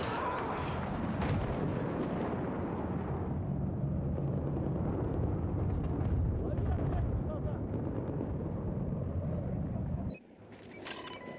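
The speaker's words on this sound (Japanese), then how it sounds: "空中から C4 投下をしてる" C4 explosives dropped from the air in the Battlefield 4 video game, producing a loud, continuous roar of blasts and rumble that runs for about ten seconds before abruptly dropping away, followed by quieter game noise.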